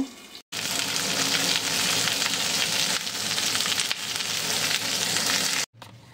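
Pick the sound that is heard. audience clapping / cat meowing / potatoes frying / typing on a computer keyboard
potatoes frying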